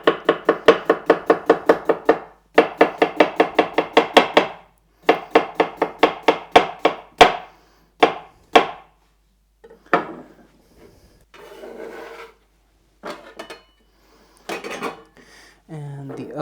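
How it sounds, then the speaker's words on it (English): A knife slices cucumbers on a cutting board in quick, even runs of close, crisp chops, with short pauses between bursts. Later the cuts become sparse and separate, mixed with light board and dish handling. "I have some cucumbers. One I will cut into some slices for my salad."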